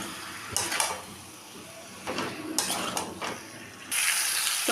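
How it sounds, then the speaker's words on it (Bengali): A spoon stirs chicken through fried spices in a pan, giving a few scraping, sizzling bursts with quieter gaps between them and a steady hiss rising near the end. "সমস্ত মশলা মাংস ভালো করে মিশিয়ে নিয়েছি"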